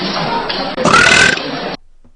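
A woman lets out a single long, loud, throaty burp lasting under two seconds, close and alone, then silence.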